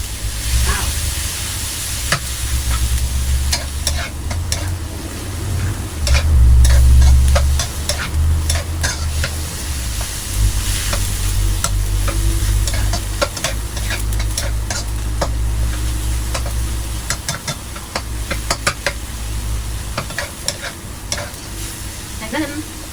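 Steady loud sizzling from a hot pan as tomato and chopped egg omelet are stir-fried, with repeated scraping and clinking of a utensil stirring throughout.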